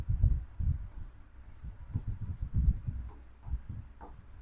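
Chalk or marker strokes on a classroom board come in short, repeated scratchy bursts, close and fairly quiet, with a voice teaching in Hindi underneath.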